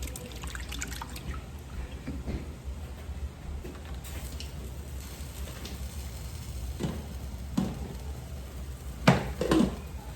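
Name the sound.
washing excess salt off saltfish with water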